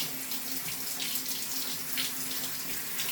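Running water from a grooming tap rinses shampoo out of a dog's coat, a steady close splashing hiss that stays even throughout, with no voices.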